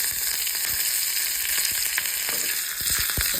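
Mustard seeds, a dried red chili and curry leaves fry in hot coconut oil, giving a loud, continuous close-up sizzle with scattered sharp pops and crackles from the seeds.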